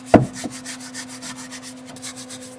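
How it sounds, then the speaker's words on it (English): Rusty, scaly steel is worked with a grinder before welding, giving a close, rhythmic abrasive rasp over a steady motor hum, with one sharp knock at the start. "I forgot to hit this with a grinder before I started welding"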